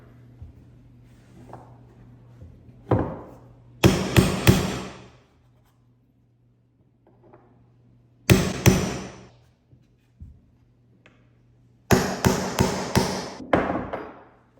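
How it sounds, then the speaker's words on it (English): Sharp metallic hammer blows on a nail set, driving a large nail below the wood surface, arriving in quick bursts of three to five strikes separated by quiet pauses. "There's a very big nail still sticking out here, so I'm going to try to bang that down below the surface"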